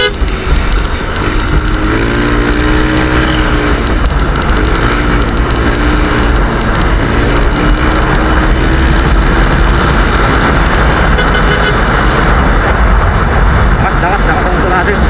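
A Yamaha Aerox 155 scooter fitted with an Etech pulley set drones loudly and continuously with rising and falling engine pitch, heavy wind noise throughout, and someone talking over it.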